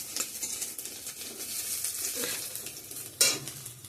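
A cumin tempering with garlic, onion, dried chilli and bay leaf fries in hot oil, giving a continuous close, crackling sizzle with light stirring scrapes and one sharper utensil clatter near the end; no one speaks.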